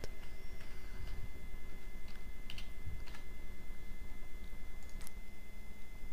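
Fast clicking keystrokes on a computer keyboard, close and steady, with a few sharper taps standing out over a low background hum.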